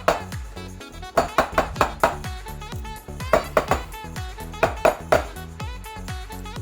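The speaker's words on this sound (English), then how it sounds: "pick it up with both hands and tap it on the counter" A metal muffin tin filled with cupcake liners and batter is rapped against a kitchen counter in quick clusters of sharp, ringing metallic taps, several rapid knocks per burst with brief pauses between, close and clear with no talking.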